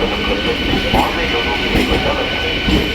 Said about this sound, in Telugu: గుంటూరు జంక్షన్ ట్రైన్ అది